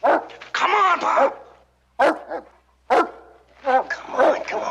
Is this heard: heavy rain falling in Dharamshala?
no